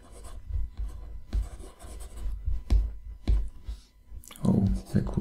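A pen writes on paper marking a graph, producing a string of scratchy strokes and taps, close and fairly quiet, ending with a brief rustle.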